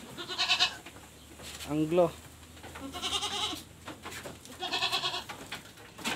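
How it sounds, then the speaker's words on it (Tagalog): Farm goats bleat in several loud, wavering calls spaced a second or so apart, close by, with a person speaking briefly between the bleats. "Ito naman yung kambing natin dito."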